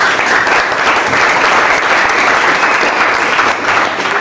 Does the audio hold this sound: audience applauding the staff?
yes